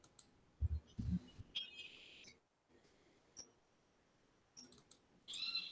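A computer mouse clicks a few times to set a shared screen to full view before a medical ethics panel talk, the sharp ticks quiet and brief against a faint room hush.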